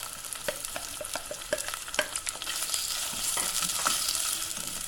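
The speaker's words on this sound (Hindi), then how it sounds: "अब हम स्लाइस की हुई प्याज इसमें शामिल करेंगे।" Sliced onions frying in hot oil in a pan for masoor dal, with a series of spoon clicks and stirring strokes over a rising, continuous sizzle that grows fuller toward the end, heard close with no talking.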